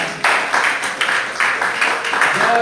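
A church congregation applauds together, a broad, steady wash of many hands clapping that swells in repeated bursts and carries through the whole moment without a break.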